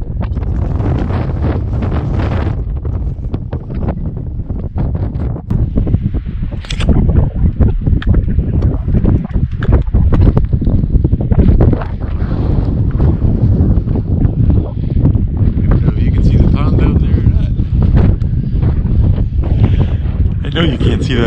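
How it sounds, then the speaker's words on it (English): Strong gusting wind buffets the microphone on a mountain trail along the Appalachian Trail near Saddleback, a continuous loud roar with rumbling bursts, and a voice speaks briefly under it. "Yeah, this wind is blowing."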